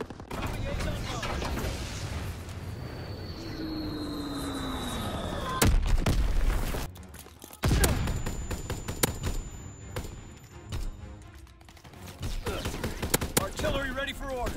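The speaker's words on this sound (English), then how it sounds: "Firing primary battery." An artillery battery firing in a video game: a dense, rolling barrage of heavy booms and sharp blasts, with a whistling shell passing over, alongside radio-style voice callouts and a brief lull partway through.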